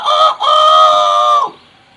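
A human voice imitates a rooster crowing: a loud, close cock-a-doodle-doo with a brief break near the start and a long held note that falls away at the end, alone without other sound.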